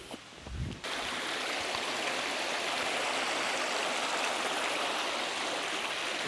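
Stream water flows steadily through woods along a Mount Greylock trail, a dense, even rushing that holds constant from start to end, with a brief rustle at the very beginning.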